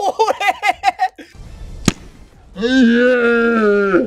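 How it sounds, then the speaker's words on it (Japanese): A cola bottle bursts open with one sharp, loud pop, followed by hissing fizz. Excited speech comes before it, and a drawn-out vocal cry follows it. "爆発したわ。"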